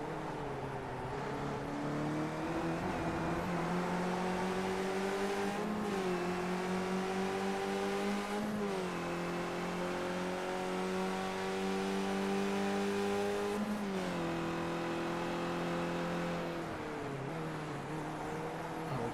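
Race cars in an iRacing online event howl steadily through high revs, with the engine pitch climbing and dropping sharply at each gear shift, loud and sustained without any talking.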